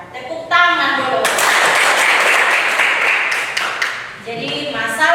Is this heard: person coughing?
no